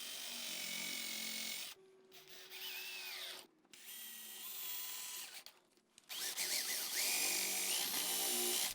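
Power drill driving screws into wooden frame pieces for a weatherproof litter box enclosure, several whirring bursts of a few seconds each separated by short pauses, close and loud with no talking.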